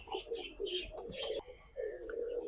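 High flyer pigeons coo in a loft, soft rolling calls repeating near and clear with brief gaps between phrases, some chirpier notes mixed in.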